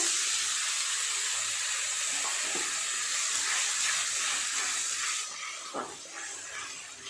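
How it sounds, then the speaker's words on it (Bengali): Water poured into a pan of ginger, garlic and tomato paste gives a steady loud hiss and sizzle that carries on for about five seconds, then settles lower with a few faint clinks. "অল্প একটু জলও দিয়ে দেবো।"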